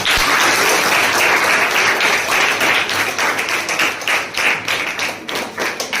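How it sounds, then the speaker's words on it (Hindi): A room full of people at a science-magic demonstration claps loudly and continuously, dense applause that slowly thins into more distinct individual claps toward the end. "ताली बजाओ एक बार"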